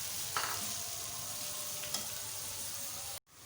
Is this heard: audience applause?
no